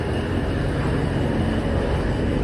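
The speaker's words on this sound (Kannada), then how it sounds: "ಕೇಳಿಸ್ತಿದೆಯೋ ಇಲ್ವೋ ಗೊತ್ತಿಲ್ಲ ಬಿಕಾಸ್ ಟ್ರೈನ್ ಹೋಗ್ತಾ ಇದೆ" A loud, steady rumble fills the whole clip without pause, like a train rolling past close by, with no voices over it.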